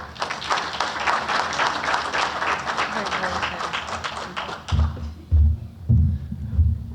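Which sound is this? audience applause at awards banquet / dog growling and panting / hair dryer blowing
audience applause at awards banquet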